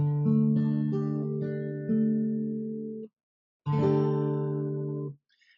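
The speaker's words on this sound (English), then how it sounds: "And last chord for this Triads Part 3 is suspended fourth." A guitar suspended fourth triad chord with the open fourth string ringing is strummed and left to sustain for about three seconds, then struck again after a short silence, clear and close with no talking.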